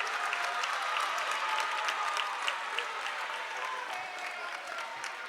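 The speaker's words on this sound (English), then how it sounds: "And this Hoboken crowd loves it." Crowd at a high school basketball tournament semifinal in Hoboken, New Jersey, cheering and applauding steadily, a dense wash of clapping and voices that stays loud throughout.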